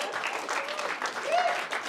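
Applause from a stand-up comedy audience, a steady wash of clapping running throughout the short stretch, with a voice speaking over it.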